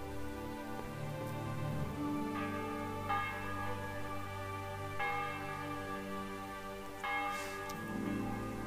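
Church bells peal at noon over a medieval town in the game Kingdom Come: Deliverance, a steady ringing with repeated strikes roughly every two seconds over a low ambient hum.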